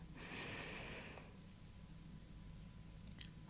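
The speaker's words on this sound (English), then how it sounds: "a slow breath in through your nose" A slow, soft breath drawn in through the nose at the start, quiet and close, followed by near silence and a faint second intake at the end.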